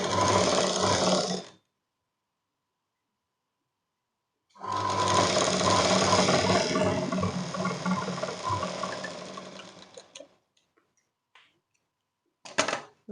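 Sewing machine stitching a size 40/42 four-tuck blouse runs in two loud bursts, a short one and then a longer run of several seconds, separated by silence, followed by a few faint clicks and a brief final whir.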